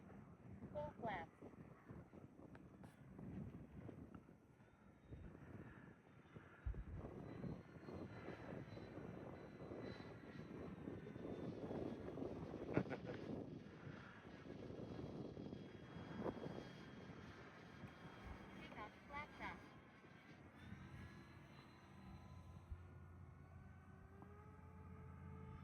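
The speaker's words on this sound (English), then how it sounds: "One more pass and then we'll do a gear check and land it" E-flite Airbus A320 RC model airliner making a pass with flaps extended, its electric ducted-fan whine rising and fading across the field amid wind buffeting, with people talking nearby.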